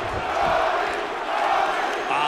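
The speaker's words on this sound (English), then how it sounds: "Listen to the crowd." Arena crowd noise in the EA Sports UFC 2 fighting video game, a steady roaring swell of cheering and shouting that rises and falls over a couple of seconds.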